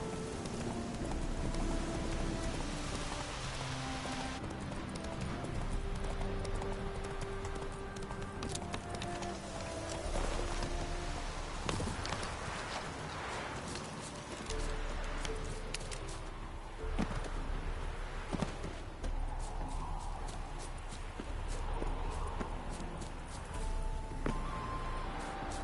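Horse hooves gallop in The Witcher 3 on PS4, a continuous rapid clip-clop of running beneath dense game ambience and music, steady and moderately loud throughout.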